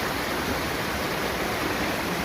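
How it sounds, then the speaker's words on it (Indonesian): Clear water from a large spring runs through a small stream at a rural tourist village, making a steady, unbroken rushing wash with no speech over it. "di kawasan sini itu ada sungai kecil ya, yang airnya cukup bening, sumbernya cukup besar"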